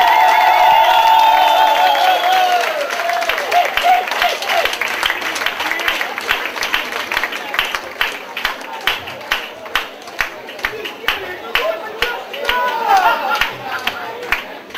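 A concert audience applauds steadily at a Budapest club show, a dense wash of clapping that thins into scattered claps while someone talks loudly over it at first.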